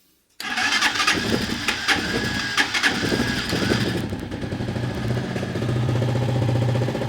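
An LPG-fuelled motorcycle engine catches after a kick start and runs steadily, loud and close, settling into a rough, throbbing idle.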